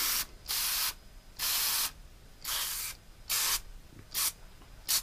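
A liberal coating of strong foaming chemical stripper is sprayed onto a plastic part from a 1967 VW Beetle in short, close hissing bursts, about six separate sprays with brief pauses between them.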